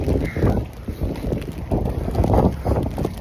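Strong wind buffets the microphone outdoors on a very cold early Saturday morning in Croatia, a loud, continuous low rumble with gusts that swell and ease throughout.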